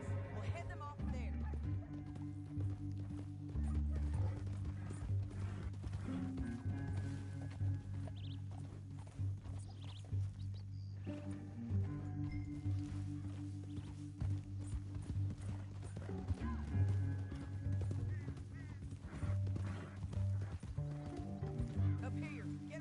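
Steady horse hooves clip-clop throughout at a walking rhythm, with music and ambient game sound layered over them.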